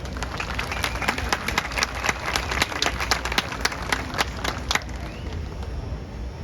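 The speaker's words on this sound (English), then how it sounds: "Give her a round of applause." An audience at an Air Force event at the Alamo applauds to welcome a woman to the stage, a dense, continuous burst of many hands clapping at steady volume.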